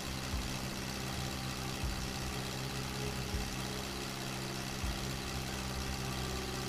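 Forklift engine in the warehouse and logistics simulator video game, a constant low droning rumble with faint periodic low thumps, steady and unbroken throughout.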